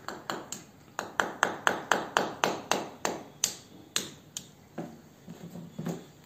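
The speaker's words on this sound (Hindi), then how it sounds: "फ्रेंड्स ये हथौड़ा वैसे टिन वाला है हमारा" A makeshift tin hammer strikes repeatedly, about twenty sharp metallic taps in a steady rhythm, close and clear, slowing and fading toward the end with no talk.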